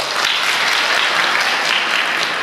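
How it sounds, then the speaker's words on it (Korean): An audience at the opening ceremony of the 2023 Gyeongju International Minhwa Forum claps loudly and steadily, dense applause filling the whole stretch with no break. "네, 다시 한번 뜨거운 박수 부탁드립니다."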